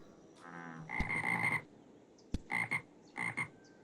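Minecraft frogs croaking in the RLCraft modpack, several grouped rasping croaks in quick bursts with short pauses between them, clear and fairly close with no talk.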